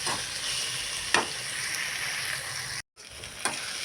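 Coriander frying in hot oil in a pan, a steady close sizzle and crackle with a couple of sharp stirring scrapes and a brief cut in the middle.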